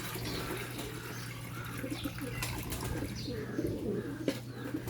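Pigeons coo softly and repeatedly at close range, with faint chirps and a trickle of water as the birds are given water to drink.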